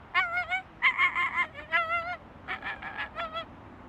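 A man imitates an American flamingo with a run of nasal, goose-like honking calls in uneven bursts, close and moderately loud, with short gaps between groups.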